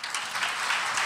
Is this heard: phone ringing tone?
no